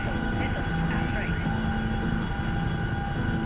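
A helicopter flies in a combat flight video game, its steady engine and rotor drone loud and continuous, overlaid with short tonal cockpit warning beeps.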